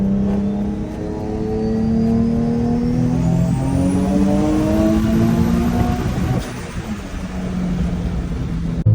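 A turbocharged Nissan 350Z accelerates hard in third gear, engine note climbing steadily with a rising turbo whistle above, then easing off near the end, loud and close from inside the car.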